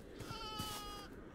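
A horned, sheep-like creature in Minecraft's RLCraft pack gives a short, quiet bleat, a wavering nasal cry lasting about a second against soft background noise.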